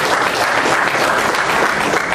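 Audience applause for a woman representing management at a formal gathering, a dense, steady wash of many hands clapping throughout, loud and sustained with no voices over it.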